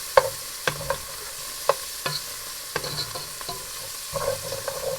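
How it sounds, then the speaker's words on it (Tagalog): Onion and garlic sauté in a pan for ginisang sayote, with irregular sharp clinks of a utensil stirring against the pan over a faint, steady sizzle. "I'm gonna go ahead and lightly cook the onion and the garlic."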